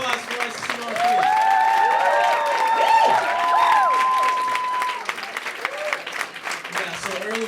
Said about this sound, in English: Another round of applause for Raissa Simone, please.